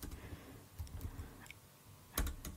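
A few soft clicks of typing on a computer keyboard to enter a command in a launcher, faint and sparse, ending in a slightly louder click pair, over a low hum of background noise.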